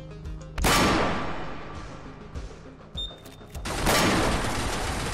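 A gunfire kill shot sounds as a sharp loud blast that decays into a rumbling tail, then a short click and a second loud burst that trails off toward the end.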